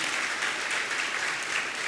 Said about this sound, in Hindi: अगर समाधान अच्छा मिले तो आपकी तालियां अच्छी बजना चाहिए